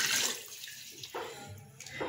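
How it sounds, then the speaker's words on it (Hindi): Water pours into a cooking pot of mutton for yakhni pulao, a continuous splashing stream with changing flow, close and alone. "अब मैं इसमें मज़ीद पानी ऐड करूंगी ताकि ये पानी फिर चावलों के लिए भी पूरा आ सके।"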